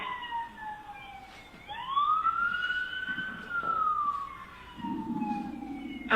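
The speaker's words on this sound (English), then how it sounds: "I can hear the sirens now." Emergency vehicle siren wailing steadily, rising and falling as it draws nearer, loud and clear over low road rumble with no talk.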